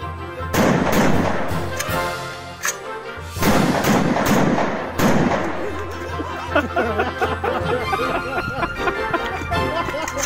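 Gunfire at a shooting training session: a few loud, sharp reports near the start, then a quick burst of several shots, then lighter scattered cracks, all close by with some background chatter.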